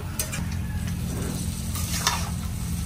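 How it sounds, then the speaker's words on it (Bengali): Duck meat, potatoes and turmeric sizzle steadily in a frying pan while being stirred, a constant hiss of frying with occasional soft scrapes, with no talking. "আর এই যে আলু, এখন সবগুলা ভালোভাবে মিশাই নিবে।"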